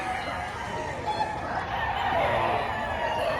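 A fighting rooster from Taal, Batangas crows in a long drawn-out call over a steady outdoor background, with fowl clucking faintly nearby.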